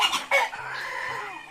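Chickens on a poultry farm in Batangas clucking in short, close, steady calls, with a louder burst near the start and continuous squawks running beneath.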